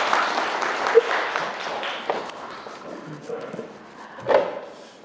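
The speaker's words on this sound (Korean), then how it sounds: "뜨거운 박수로 환영해 주십시오." A lecture audience in Gwangju claps to welcome a humanities professor: a moderate wash of applause that thins and wavers after the first couple of seconds, with scattered louder claps near the end.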